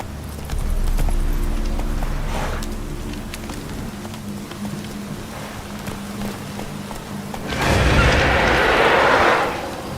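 Geralt's horse Roach galloping in The Witcher 3, a rapid drumming of hooves running steadily throughout, with a louder rushing surge of movement near the end.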